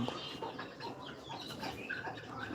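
A big fighting rooster clucks and murmurs softly in short, irregular bursts, heard close but quietly with faint background noise and no talking.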